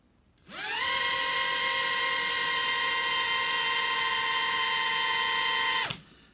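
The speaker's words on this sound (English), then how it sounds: "this is now the E-Sheen, a thrust test of the E-Sheen" A JJRC H36 mini drone's motors run up in a thrust test, a steady high-pitched electric whine with strong tonal harmonics that starts abruptly, holds loud and even for about five seconds, then cuts off.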